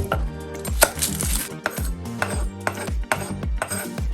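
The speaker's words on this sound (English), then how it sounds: "if you're trying to dice an onion, this is the best way to do it" A knife dices an onion on a cutting board for a seafood cocktail, landing in quick, sharp, evenly paced chops that ring against the board with slight clattering, close and loud with no talk.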